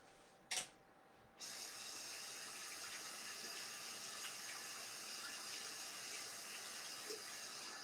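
Tap water runs steadily from a faucet while chalk paste is rinsed off a piece by hand, a continuous close hiss starting after a brief knock, with no voices.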